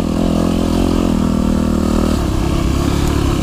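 Dirt bike engine droning steadily on a forest trail loop, close and loud throughout, with a shift in pitch partway as the rider works the throttle and clutch.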